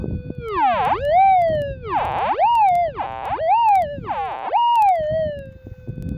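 Metal detector signal swept over a shallow buried gold nugget in Western Australia: a loud, rising and falling warbling tone that repeats in sweeping cycles over low ground scrape noise, no voices.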